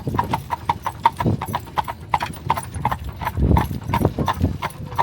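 Horse hooves clip-clop in a steady, brisk rhythm as the animal pulls an Amish buggy along a road, close and clear, with faint road and carriage rumble underneath.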